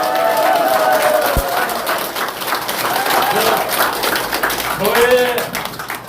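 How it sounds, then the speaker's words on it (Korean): A crowd at a Korean local election campaign event for a county governor candidate applauds steadily and continuously. Someone speaks over the clapping. "박수 한번 보내주십시오."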